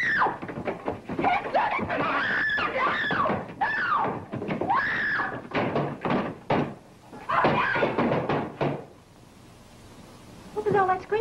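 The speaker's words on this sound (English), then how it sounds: "What was all that screaming I heard?" A woman screams repeatedly during a violent fight in a 1936 crime drama, loud wavering shrieks mixed with thuds and knocks, fading briefly before another cry.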